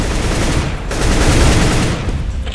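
Rapid continuous gunfire in a shooter video game, loud and dense bursts rolling on for the full stretch with no voices.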